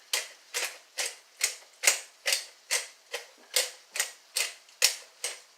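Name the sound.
pepper grinder grinding black pepper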